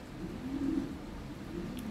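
A high-quality imported Lahori show pigeon coos softly, a low murmuring call close by and fairly quiet throughout, with no speech.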